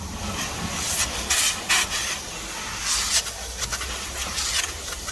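Water spraying onto car exhaust tips to rinse off an abrasive cleaner, a close hissing spray that surges and eases in uneven bursts with a low rumble beneath.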